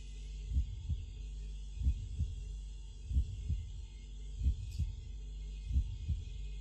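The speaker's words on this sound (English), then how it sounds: "You hear that slow thump thump, and if you notice, those red corners are growing in size and they're pulsing in time with the heartbeat." In the video game SCAVENGER SV-4, a slow heartbeat signals radiation exposure: a deep, muffled thump-thump pulsing at an even rhythm, about five double beats, alone over a low hum.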